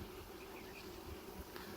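Dense, steady buzzing of many honey bees in a hive fills the clip, a continuous droning hum heard close up with no talk.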